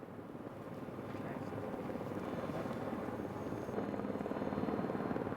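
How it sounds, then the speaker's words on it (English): A helicopter's rotor thumps steadily throughout, a continuous droning chop at moderate distance that grows slightly louder toward the end, during a rescue on the Matterhorn. "Ten minutes later, the helicopter returns with a stretcher suspended underneath."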